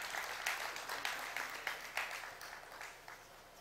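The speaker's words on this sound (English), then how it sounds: "Let's give all of them a round of applause." An audience at a statistics day debating competition applauds the evening's officials, a short burst of clapping that fades out within a few seconds.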